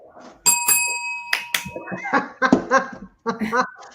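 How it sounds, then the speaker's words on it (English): A small bell rings near the start with bright, quickly fading tones, followed by several people talking and laughing up close. "We rang the bell."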